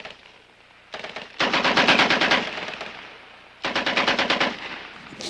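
Two long, loud bursts of rapid machine gun fire, close by, separated by a short pause, with no talking.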